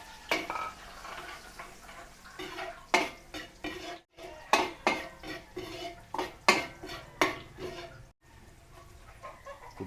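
Garlic sautés in a pan for Filipino party cooking, a utensil stirring and scraping in repeated rhythmic strokes under a light sizzle, with brief pauses between strokes.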